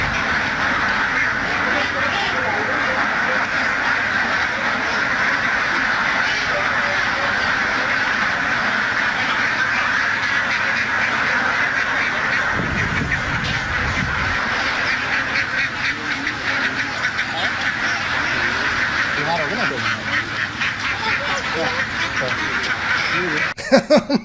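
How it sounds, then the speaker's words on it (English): A large flock of ducks quacks continuously throughout, a dense steady chorus with some honking mixed in, and a voice talks over it. "that's a lot of ducks"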